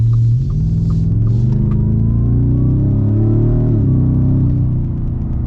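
A deep, throbbing V8 engine rumble from a modified Ford Raptor R, loud and close, with steady low harmonics that swell and shift slightly as the revs change.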